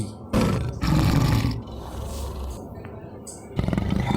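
A tiger roars loudly and close, with several heavy rumbling bursts separated by short pauses, the last one rising again near the end.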